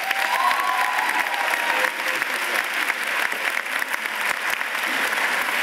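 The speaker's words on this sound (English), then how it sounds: "Please give yourself a hand of applause for graduating in style." Dense, steady applause from a large commencement crowd at a community college graduation, filling the whole stretch with continuous clapping and no clear voices above it.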